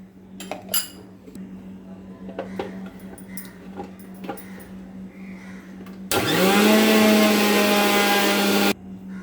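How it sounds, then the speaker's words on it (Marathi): Clinks of kitchen utensils, then a mixer grinder regrinding strained coconut for sabudana kheer spins up loud and close, whirring steadily for about three seconds before cutting off. "आता हे जे मी गाळून घेतलेलं होतं खोबरं ते आता पुन्हा एकदा मिक्सरला लावून फिरवून घेणार आहे."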